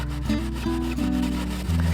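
Close, continuous rubbing strokes wipe lacquer back and forth across a metal scythe blade in a steady rhythm, with no talking.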